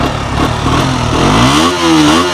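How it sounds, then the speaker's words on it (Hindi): A 2022 KTM RC 125 motorcycle with an underbelly exhaust, revving steadily up and down close by, its engine note rising and falling in a continuous throaty burr. "एग्जॉस्ट का साउंड सुना देता हूँ"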